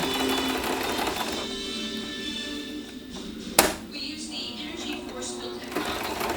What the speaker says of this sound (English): I'm going to finish zigzagging around this letter.